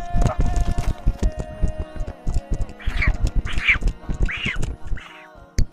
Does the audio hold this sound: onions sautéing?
no